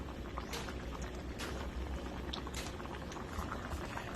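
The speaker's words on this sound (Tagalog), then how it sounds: "Kulong-kulo na po siya." Broth bubbles at a rolling boil in a pot, a continuous close gurgling with scattered pops and patters, steady throughout with no talking.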